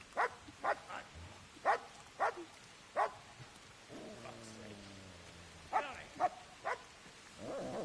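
A dog named Tinker barks in sharp, repeated bursts, pausing midway for a drawn-out tonal whine before another quick run of barks, fairly close and loud against a quiet background.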